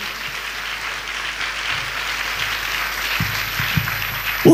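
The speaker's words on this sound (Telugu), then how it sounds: "అందరు చప్పట్లు కొట్టి దేవుడు మహిమపరచండి. గట్టిగా చప్పట్లు కొట్టండి." A church congregation claps loudly together at a worship service, producing a sustained, dense wash of applause that holds steady and swells slightly toward the end.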